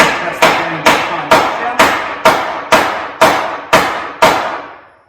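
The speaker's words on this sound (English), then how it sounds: "So, now just press the bearing back on" A steel bearing is struck back onto a snowmobile shaft during a Yeti Snow MX service, about ten sharp evenly spaced metallic hits, close and loud, each ringing briefly before the next.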